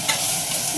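Curry leaves crackling and sizzling in hot oil in a pan as they are stirred, a brief close burst of spattering frying noise with no talk.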